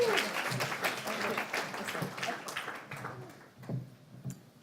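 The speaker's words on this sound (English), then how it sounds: "please give her a round of applause" Applause from an audience at a spiritual conference as a speaker is welcomed to the stage, a dense burst of clapping that thins out toward the end with a few last claps.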